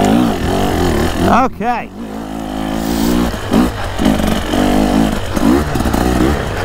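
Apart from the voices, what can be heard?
KTM 300 two-stroke dirt bike engine revving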